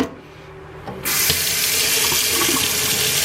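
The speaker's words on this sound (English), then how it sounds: "Look, I got the water running right on it." A tap suddenly opens to full flow, and water pours steadily from the faucet onto a cheap Pro-HT mp3 player, a loud, continuous splashing rush after a quiet start.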